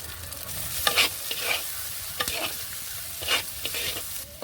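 Ground spices such as chilli and turmeric with salt frying in oil while being stirred, a soft crackling sizzle broken by several scraping spatula strokes, close and without talk.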